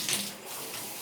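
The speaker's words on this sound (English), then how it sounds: "half of the water has been going down the drain" Soapy water from a sink full of bulk Lego pieces drains away with a soft, steady gurgling rush, a brief brighter splash at the start, alone and close.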